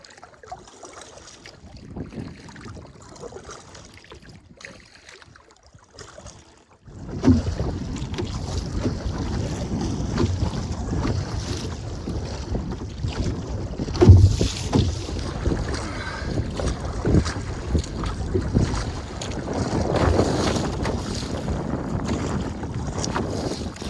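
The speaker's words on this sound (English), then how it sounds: "All right, keep paddling." A canoe moves on the French River against a headwind, with steady wind rumble buffeting the microphone and water sloshing around the hull, quiet at first and then loud and continuous, with no talk.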